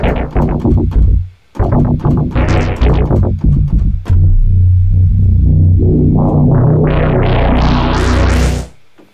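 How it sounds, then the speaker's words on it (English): Virus B synthesizer with its cutoff filter swept, giving a loud, distorted, throbbing tone that cuts out briefly and then rises steadily into a bright, buzzing sweep before stopping abruptly near the end. "it was manipulated with the cutoff filter, so it sounds like this"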